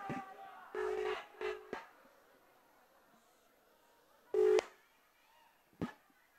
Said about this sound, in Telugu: రింగ్ అవుతుంది